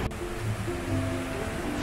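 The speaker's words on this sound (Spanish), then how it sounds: "Y abajo la cascada." The Agua Azul waterfall cascades pour with a continuous, full roar of rushing water that stays steady and close throughout.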